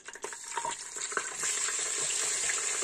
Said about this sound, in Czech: smažíme do zlatova, jenom prostě, aby měli zlatou barvu